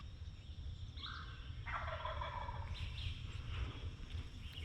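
A wild turkey tom gobbles during a turkey hunt, two or three rattling bursts at a moderate distance over a constant outdoor background hiss.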